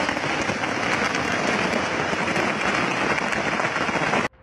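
Fireworks display: a dense, continuous crackling roar that holds steady and loud, then stops suddenly near the end.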